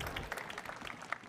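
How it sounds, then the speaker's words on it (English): A brief, soft burst of audience clapping in a hall welcoming a speaker at a pitch session, scattered hand claps heard at a distance. "A big applause, please, for Isabel"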